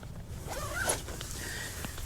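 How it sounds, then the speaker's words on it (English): A tent awning zipper on a OneTigris Backwoods Bungalow 2.0 shelter is drawn down in one quick, close, quiet rasping pull. "It does zip down on both sides here, all the way down to the bottom."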